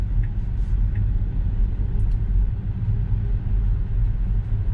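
A Tesla car cruising through Chicago on a daily commute, heard as a steady, even low rumble of road and cabin noise that holds for the whole stretch with no talking.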